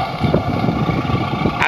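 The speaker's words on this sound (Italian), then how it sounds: "ecco il mio Defender, ragazzi, guardate, ho anche il kit suono motore" Steady, rumbling engine hum from a sound kit on an RC Defender model car, a continuous low idle-like drone with a brief higher noise at the end.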